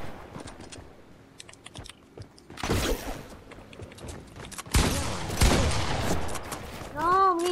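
Bursts of gunfire from the video game Fortnite rattle out in quick volleys, mixed with steady keyboard clatter and brief sounds of a voice, with a loud burst near the end.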